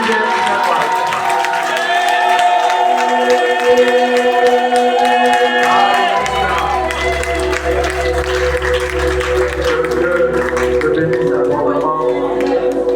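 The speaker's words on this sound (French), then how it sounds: "Est-ce qu'on peut acclamer le Seigneur?" A church congregation cheers and claps in praise during a worship service, crowd voices and applause blending with sustained music throughout, a deep bass tone joining partway through.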